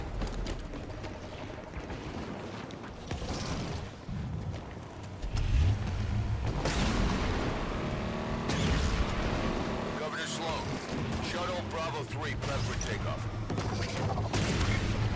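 Rapid gunfire and explosions from a firefight in the Halo 5: Guardians campaign, dense and loud throughout, with a voice talking over the shooting.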